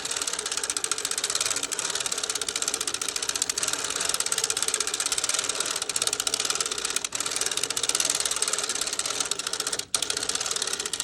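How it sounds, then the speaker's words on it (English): Steady, continuous mechanical clicking and whirring of a hand-cranked Dean and Bean sock knitting machine, fairly close, with a fast even ratchet-like rhythm and no talk. "There is more pressure needed as I'm cranking at this point, but not nearly as much as on the metal machines."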